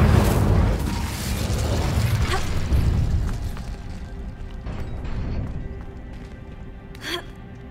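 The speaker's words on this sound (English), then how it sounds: "Incendio!" A fire spell cast in Hogwarts Legacy on Xbox: a loud, roaring whoosh of flame at the start that fades over several seconds, followed by a short bright flare near the end.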